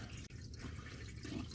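Engine oil draining from a 2014–2018 Chevrolet Silverado's drain plug into an oil catcher, a faint steady dripping and trickling that continues alone at low level.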